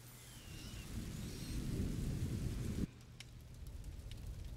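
Heavy rain hisses steadily under a deep rolling rumble of thunder in the video game A Plague Tale: Innocence. The storm cuts off sharply partway through, leaving fainter patter and ambience.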